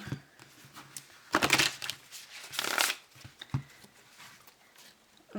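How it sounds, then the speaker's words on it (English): Close, soft riffling of a deck of cards being shuffled, with a few brisk bursts of flapping and light tapping, no voices. "these cards are a little bit weird to shuffle when I shuffle them this way"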